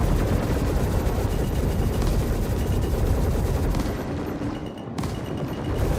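Spaceship guns in the Star Citizen video game fire in a dense, continuous barrage, loud and unbroken, easing slightly toward the end.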